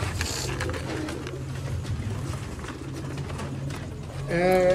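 Pigeons cooing close by, low throaty rolling calls over a busy background, with a clearer tonal call rising near the end.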